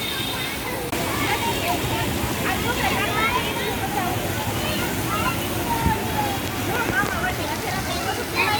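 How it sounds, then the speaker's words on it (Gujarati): A water fountain spilling down from a height, a steady loud rush of falling water with crowd babble mixed in throughout. "અહીંયા પાણીનો ફુવારો છે"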